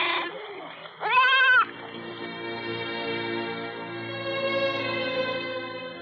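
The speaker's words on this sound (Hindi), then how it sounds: "अरे बकरियां हटाओ, जल्दी हटाओ।" Goats bleat in a loud, wavering harmonic call about a second in, followed by a sustained tonal layer of music-like drones that carries on to the end with no talk.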